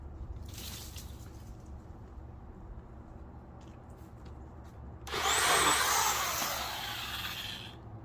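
A Harbor Freight Portland 1.5 hp electric pole saw chews through a branch close to two inches thick. A quieter stretch comes first, then a loud burst of cutting and crackling wood that trails off into lower whirring.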